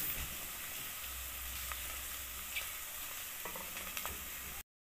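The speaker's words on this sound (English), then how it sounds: "I'm going to now fry my rice. I've used oil with onions" Rice frying in oil with onions gives a soft, steady sizzle with occasional stirring scrapes and light ticks, close but quiet, with no talking before it cuts off abruptly.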